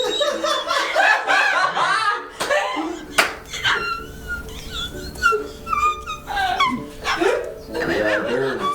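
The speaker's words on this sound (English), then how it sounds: "there's a bunch of dogs freaking out over here right now" A crowd of dogs at a busy furry community event barks and whines excitedly in overlapping bursts, mixed with laughter and chatter from people nearby.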